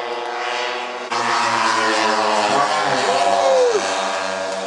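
An aerobatic propeller airplane engine roars nearby during a kick-out landing, with a rising surge partway through while the engine tone bends and shifts, steady and loud.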